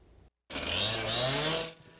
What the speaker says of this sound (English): sawing a metal nub off a 36-inch water main that was laid down here when Grover Cleveland was president